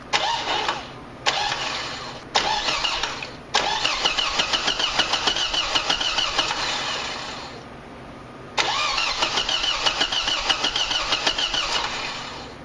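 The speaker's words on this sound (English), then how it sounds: "so we're just going to blip the starter." Starter cranking a Mazda 626 inline-four engine during a timing belt and water pump job, in four separate bursts of steady whirring, the last two longer, with a brief silent gap between them; no speech.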